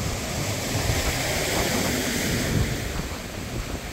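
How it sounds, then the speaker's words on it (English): Steady roar of wind and crashing surf at Brighton Pier in cold, windy weather, loud and continuous, with gusts buffeting the microphone throughout. "this cold, windy weather."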